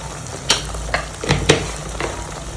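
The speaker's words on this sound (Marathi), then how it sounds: "वाटण चांगले लाल होईपर्यंत परतून घेऊया" Ground masala paste sizzles in a pan as it is sautéed for a Marathi amti with fritters made from soaked chana dal; five or six distinct spatula scrapes and stirs sound over a low, steady frying hiss, with no talking.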